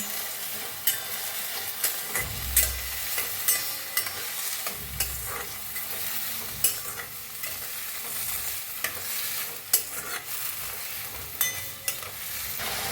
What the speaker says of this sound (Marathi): कोबी बी भाजून घेऊया, भाजून घेऊया।